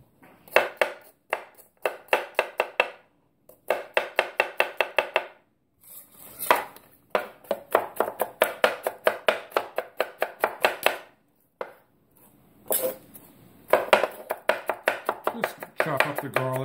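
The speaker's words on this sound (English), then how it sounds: "chop up the garlic" A knife chops garlic on a cutting board in quick rhythmic bursts of sharp taps, pausing briefly between runs, close and clear with no talking.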